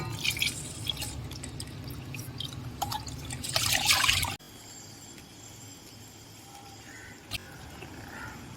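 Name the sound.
washing ration rice with water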